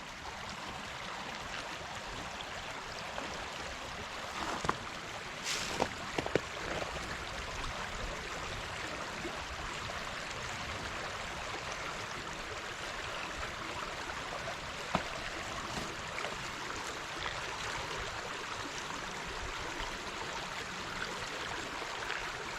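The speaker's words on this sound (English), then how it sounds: "It is this water moving, making a weird noise." Water moving in a stream eddy makes a faint, steady broadband rush and gurgle in a quiet outdoor spot, continuous throughout with a few small knocks and no talking.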